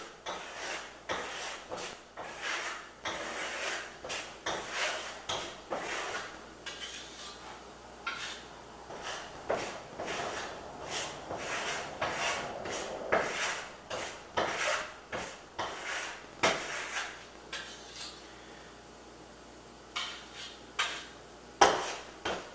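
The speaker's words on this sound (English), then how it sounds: "Still using my little S-hook with my artistic troweling technique as I apply the plaster." Steel trowel scraping and skimming Venetian plaster across a wall in short, repeated strokes, a steady run of close, gritty rasps and light taps continuing throughout with no talking.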